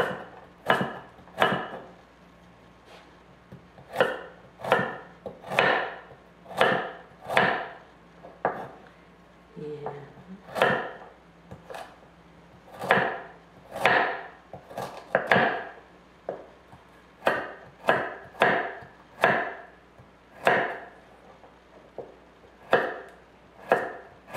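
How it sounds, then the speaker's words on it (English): A knife slices carrots into rounds on a cutting board, landing in a steady run of sharp, close chopping knocks with short pauses between strokes for over twenty seconds, and no voices. "Then we'll cut our carrots. I'm not even dicing them, just cut them in rounds."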